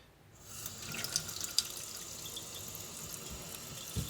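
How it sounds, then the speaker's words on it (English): Water back-flushing through a Sawyer tap filter, starting after a brief quiet moment and then running as a steady close splashing stream like a faucet into a sink. "We'll start flushing the filter out, getting it clean."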